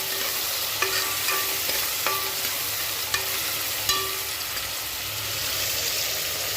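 Cut onions sautéing in a pan for mutton biryani, with a continuous loud sizzle of frying and periodic sharp taps and scrapes of a stirring spoon.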